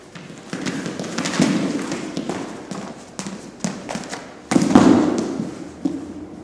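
Wrestler taken down with an outside sweep single-leg takedown on a mat, heard as a series of close thumps, shuffling and scuffling, with a heavier impact burst near the end.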